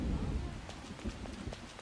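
Steady rain in a Persona 5 city scene, a dense even hiss with faint low rumbling underneath, continuous throughout and without voices.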